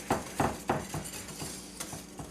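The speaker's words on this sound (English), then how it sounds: "So you just whisk that together with your flour" Whisk strokes clink against a bowl as black pepper and spices are mixed into flour, a run of quick, close metallic taps that start sharp and grow softer and more even.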